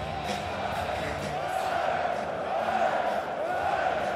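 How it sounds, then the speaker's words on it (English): A dense crowd roars and cheers steadily inside the Belgrade handball arena after Serbia versus Croatia at the 2012 European Championship, a continuous loud wash of voices with no pauses. "Still milking the applause here in the Belgrade arena."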